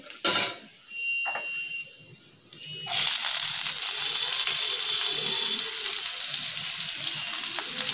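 Chopped onion hits hot oil with whole garam masala in a Bengali kitchen, a sudden loud sizzle after a few clatters of utensils, then a sustained steady frying hiss.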